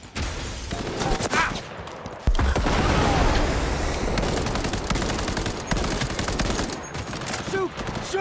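Rapid automatic gunfire rattles through a firefight in the video game Cyberpunk 2077, loud and close, with dense overlapping bursts and a heavier barrage kicking in partway through.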